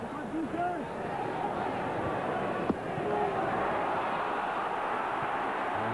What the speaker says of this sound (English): The anxiety quite apparent in the crowd's reaction.